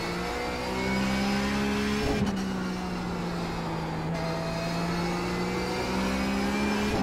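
Porsche 911 GT3 race car engine in iRacing on the Nürburgring, a steady high-revving drone with a sharp gear change early, holding loud and continuous throughout with no talking.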